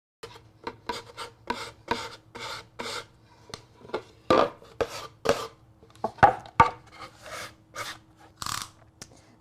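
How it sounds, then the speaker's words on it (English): Hand sanding the edges of a Dollar Tree peel-and-stick craft project, a run of short close rasping strokes in an uneven rhythm, alone without talk. "and then we will sand the edges"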